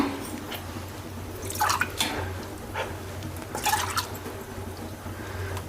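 Liquid drips and splashes in a few short bursts over a low steady hum, as water is tipped out of a pressure cooker.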